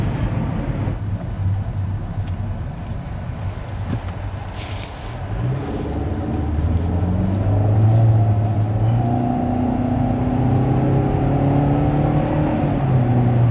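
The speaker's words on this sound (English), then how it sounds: "I was about half throttle in normal, and if you can hear it, you can hear it kind of has that droney CVT sound to it." A 2020 Kia Forte GT-Line with a CVT held at half throttle in normal mode, giving a steady, loud in-cabin engine drone that swells and holds a sustained tone, with road noise beneath and no talking.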